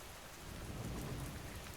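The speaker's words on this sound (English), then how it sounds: "The rain on the slates" Rain falls steadily on a slate roof, a dense soft hiss of drops with a low rumbling undertone, even and unbroken throughout.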